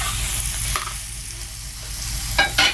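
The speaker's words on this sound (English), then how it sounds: "I'm just gonna give this a couple more stirs and then it's ready to go." Ackee and saltfish being stirred in a pot over a fire, a steady close frying sizzle with a couple of brief scraping stirs near the end, no talking.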